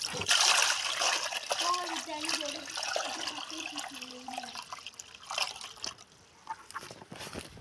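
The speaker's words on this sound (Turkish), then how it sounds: "Suyu dökerim." Water splashes and trickles as it is poured out during a morning animal feeding, an uneven run of splatter and dribbling with a person talking over much of it.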